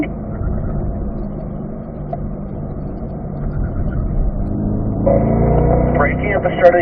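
A Corvette engine on a race track during a performance driving lesson, a steady mid-pitched drone that rises and hardens toward the end as revs climb on the downshift to third, with someone talking over it throughout.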